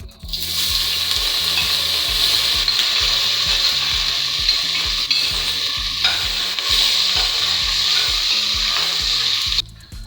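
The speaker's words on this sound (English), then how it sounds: "Fry for some time because I love my sausages to be soft and brown." Chopped sausages fry in vegetable oil in a pan, giving a loud, continuous sizzle close by, broken by rhythmic scraping and clacking as they are stirred, with no voices.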